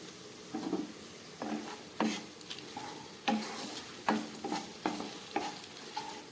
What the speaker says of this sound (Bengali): খুব ভালো করে এটাকে আমি ভেজে নিচ্ছি।